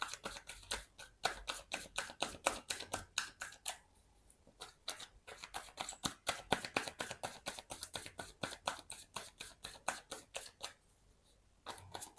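Tarot cards being shuffled by hand in a long, steady run of rapid riffling snaps and flicks, close and soft, with a few short pauses and no voice.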